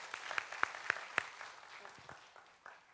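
A church congregation at a Korean revival service claps in a short burst of a few sharp, distinct claps that quickly thin out, fairly faint and echoing in the hall.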